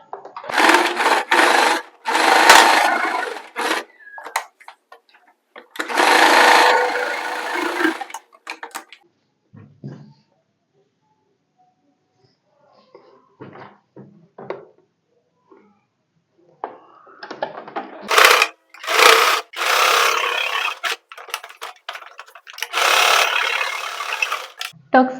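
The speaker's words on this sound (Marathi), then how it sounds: "आखलेली लाईन आहे त्यावरून शिलाई मारायची" A domestic sewing machine stitches tucks on a blouse in several separate bursts of rapid whirring, with quiet gaps and light handling clicks between runs.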